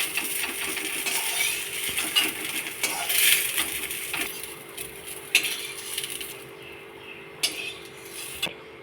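Fried eggs scraped and lifted out of a frying pan, with light metallic clinks and taps of a utensil against the pan, scattered sharp knocks over a low background hiss, close by.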